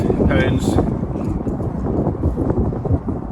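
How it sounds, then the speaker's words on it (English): Gusty wind buffets the microphone in a loud, rumbling roar, with a brief voice near the start. "Hold on, it's windy again."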